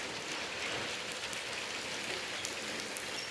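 Heavy rain during a thunderstorm pours down steadily, a dense even hiss of drops on surfaces with a few sharper splashes, close and continuous, with no voices.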